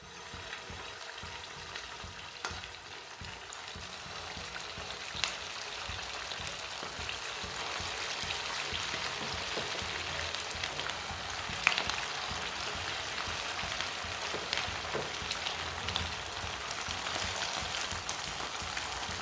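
Tikki patties dropped one by one into hot oil in a pan over a lowered stove flame, giving a continuous bright sizzle and crackle with small pops, close and steady throughout.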